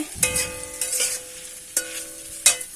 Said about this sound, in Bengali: তো বন্ধুরা দেখো এখানে আলু ভাজা হচ্ছে